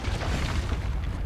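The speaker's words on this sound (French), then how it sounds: "Ah oui, l'explosion, j'avais oublié cette explosion." A deep, rumbling blast rolls out in Dragon's Dogma 2, loud and low-heavy, a sustained booming roar filling the short moment with no voices over it.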